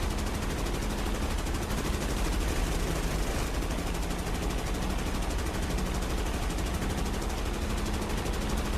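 Naval guns fire at an enemy vessel in the game Battlestations Midway, a dense, continuous barrage of rapid shots over a steady roar for the whole stretch, loud and unbroken.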